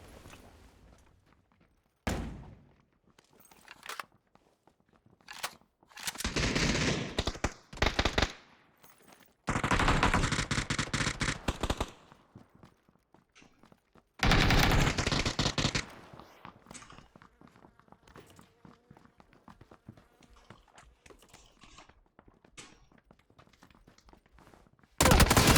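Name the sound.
gunfire in a shooter video game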